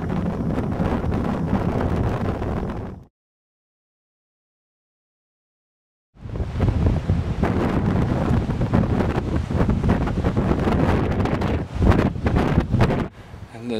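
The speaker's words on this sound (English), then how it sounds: "And the wind has really picked up." Strong wind buffets the microphone in the Australian outback during a dusty sandstorm on the road, a loud continuous roar that cuts out for a few seconds and then returns at full force.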